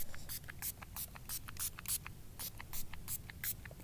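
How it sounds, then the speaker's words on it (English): Short repeated bursts of a hair and body mist spray with added essential oils, fired outdoors at dusk, each a quick airy hiss in an uneven rhythm, close and fairly faint over a low background rumble. "I can't spray enough of this."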